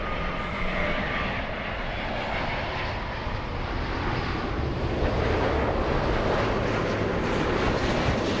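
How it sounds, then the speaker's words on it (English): A Delta airliner inbound from Atlanta descending to land at LAX, its engines a loud, continuous broadband roar that holds steady and builds slightly as it passes close overhead. "We have Delta 501 flying in from Atlanta."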